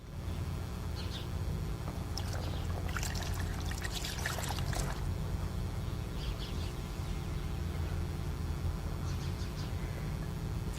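Water pours from a pitcher and splashes into a bucket for a few seconds, over a steady low rumble with faint bird calls in the background.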